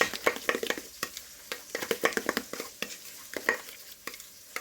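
A spoon works through a thick ricotta and spinach filling for stuffed pasta shells, making close, irregular wet scrapes and soft clicks in uneven bursts with no talking.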